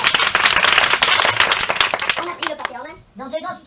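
A live audience claps, a dense burst of applause that thins into scattered claps and then gives way to someone speaking.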